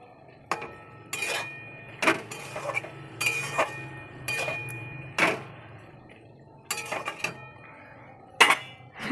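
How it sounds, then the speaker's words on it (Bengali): Ridge gourd with white sesame and raw oil stirred in a pan, a spoon clinking and scraping against the metal in irregular bursts with quiet gaps between, close and fairly soft. "কাঁচা তেলটা দিয়ে নাড়াচাড়া করবো।"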